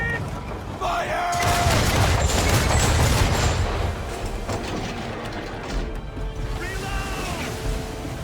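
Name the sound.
ship cannons firing in naval battle, from a video game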